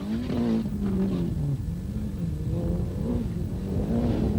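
A Proton Saga Turbo four-wheel-drive rally car engine growls at a Malaysian rally championship round, revving and shifting in pitch with a steady loud rumble over several seconds.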